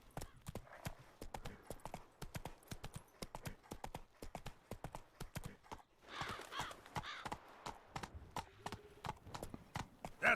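Roach, the horse in Witcher 3, clip-clops along in an even, steady rhythm of sharp, close hoof strikes on hard ground, carrying on without a break for the full span over a quiet game background.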